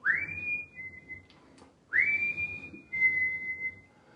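Someone whistles while doing a seated chair exercise, three clear rising-then-steady tones in sequence, close and alone with no talking.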